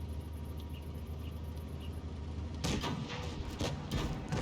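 Tank cannon shots in World of Tanks Blitz, a quick run of loud, close booming blasts in the second half that cut through a steady game engine rumble, after a calmer stretch of background noise.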